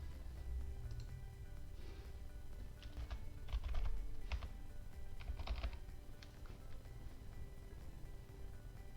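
A phone number is typed on a computer keyboard: quiet, irregular keystroke clicks in short bursts over a low steady hum, with no talking.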